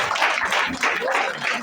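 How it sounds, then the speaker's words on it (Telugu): An audience at a Vestige team meeting claps together in a steady, dense burst of applause that fills the room evenly from start to finish, with no talk over it. "మీరందరూ క్లాప్స్ ఇవ్వండి."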